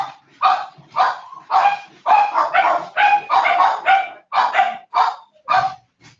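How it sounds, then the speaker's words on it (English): Dogs bark close by in a run of about a dozen loud, rapid barks in uneven bursts, with no other sounds. "Sorry, my dogs are barking."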